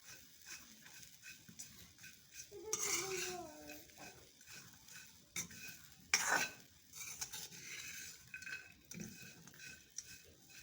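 A spoon stirs corn kernels roasting in a pan over a stove, giving soft repeated scraping and faint sizzling with a couple of louder clinks against the metal, with no speech over it.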